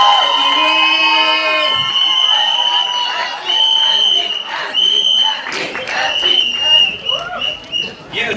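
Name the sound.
audience clapping and cheering at a trailer launch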